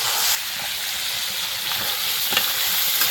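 Liver frying and being stirred in a wok on a gas stove, a steady loud sizzle with scraping stir strokes throughout and no voices.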